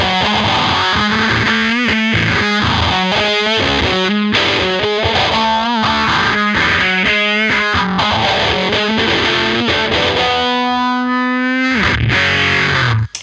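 Electric guitar through a distortion pedal with the volume knob rolled back to about half, playing a riff: steady, rhythmic, mildly gritty picked notes, close and loud, ending on a sustained ringing chord.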